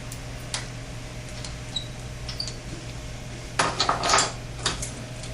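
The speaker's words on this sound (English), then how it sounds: "I'm going to remove about 2 inches of the jacket using a pipe cutter." A pipe cutter scores and strips the outer jacket from a Jameson Duct Hunter rodder, giving faint scattered metallic clicks and ticks over a low steady hum, then a brief cluster of louder scraping clicks near the end.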